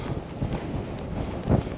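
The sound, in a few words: strong wind on mountain summit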